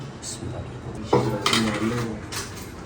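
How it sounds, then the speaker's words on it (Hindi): Metal utensil clinks and scrapes against a small metal pot while raw papaya, garlic and ginger marinade is mixed for barbecue, with irregular close clattering throughout. "सारी चीज़ों को मिक्स करना है। बर्तन ज़रा छोटा है,"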